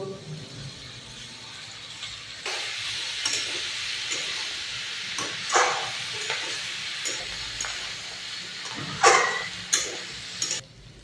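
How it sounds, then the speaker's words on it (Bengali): Chopped vegetables with tomato and salt sizzle in a pan for a spicy mango, potato and bean mix, a steady close hiss broken by scraping stirs and sharper crackling bursts. "ভাজা ভাজা হয়ে গেছে বন্ধুরা, এখন পেঁয়াজগুলি দিয়ে দিব।"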